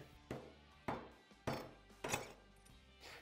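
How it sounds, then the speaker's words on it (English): A dead blow hammer taps a bearing tool adapter down onto a motorcycle steering stem: five evenly spaced, muffled thuds at close range, each one fading quickly. "We're going to tap it down just using our dead blow hammer."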